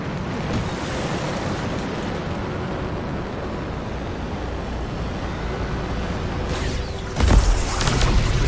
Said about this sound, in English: look at the waterfalls. They're going backwards.